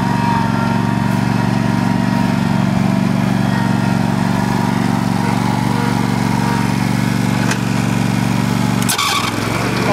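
A Troy Bilt lawn mower engine runs continuously at a farm near a garden, a loud, even droning hum nearby, with a brief clatter and a dip in the engine tone near the end.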